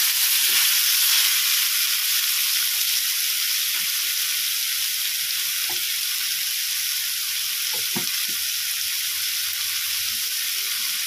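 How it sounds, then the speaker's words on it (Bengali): Chicken roll filling with spices frying over a low gas flame, a constant close sizzling hiss with occasional soft stirring knocks beneath. "আর গ্যাসের ফ্লেমটাকে আমি কিন্তু কমিয়ে রেখে দিয়েছি। দিয়ে এটাকে ভালো করে আমি একটু কষিয়ে নেব।"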